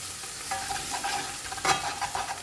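Fish bhuna sizzles and fries steadily in a pan, with occasional stirring scrapes over the constant crackle, close up and without talk.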